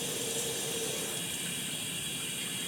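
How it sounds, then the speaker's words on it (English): Water runs steadily from a hand shower at a bathroom valve, a constant hissing spray with no talking over it. "the hand shower will run by itself"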